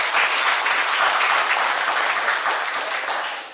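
Congregation at a pastor ordination service in a church breaking into loud, dense applause that holds steady for a few seconds, then begins to fade.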